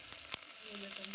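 Cumin and mustard seeds spluttering in hot oil, a short burst of dense sizzling with a few sharp pops, close and on its own.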